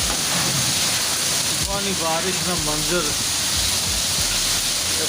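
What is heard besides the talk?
heavy morning storm rain in Dadyal, Azad Kashmir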